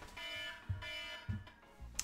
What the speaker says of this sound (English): There is the timer